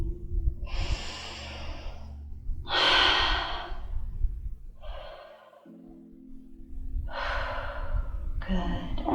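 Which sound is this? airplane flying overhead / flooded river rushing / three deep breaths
three deep breaths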